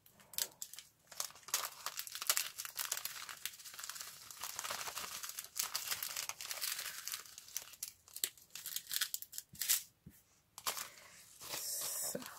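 Sticky plastic packaging bags full of sequins being handled, with close, busy crinkling and rustling that comes in bursts and continues almost without a break.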